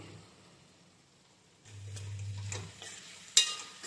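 A spoon stirs and scrapes through mirchi milk curry with salt and turmeric in a pan, with soft close scraping, a low rumble midway and a sharp clink near the end.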